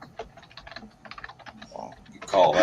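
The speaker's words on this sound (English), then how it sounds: "My keyboard's so loud, you guys. I'm sorry. It's a mechanical keyboard." Fast typing on a loud mechanical computer keyboard makes a rapid run of crisp clicks that swells into a dense, loud burst at the end.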